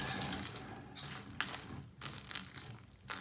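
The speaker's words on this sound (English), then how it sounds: "I'm just going to get some vinegar and pour it down here" Vinegar splashes and gurgles into a sink drain during home drain cleaning, poured in a few uneven bursts with short pauses, close and moderately loud, no talking.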